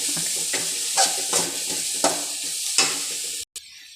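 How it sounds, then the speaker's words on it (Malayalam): Cooked spinach stir-fry, cheera thoran, stirred in a pan: a run of close scraping strokes with light clinks and a soft sizzle underneath, ending abruptly. "വെന്തത് ഇനി ഒന്ന് ഇളക്കിയെടുക്കാം"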